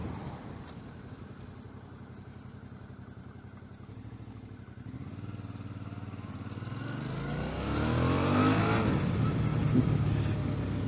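2018 Suzuki DL650 V-Strom engine while riding, a steady buzzing drone with wind rush that swells as the throttle opens, pitch climbing and rising louder toward the end, heard up close with no talking.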